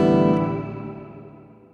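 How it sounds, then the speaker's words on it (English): A single strummed chord on a Donner Hush-i Pro travel guitar with room reverb rings out and slowly decays, with a roomy reverberant tail fading away. "room reverb"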